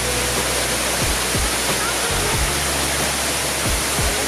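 A waterfall roars in a loud, constant rush of crashing water that fills the whole scene close up, with a few low thumps beneath it.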